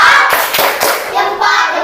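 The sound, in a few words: schoolchildren doing a thumb clap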